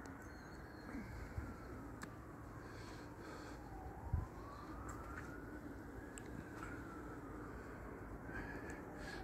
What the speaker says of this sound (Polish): Syrena jedzie, aż policja jedzie.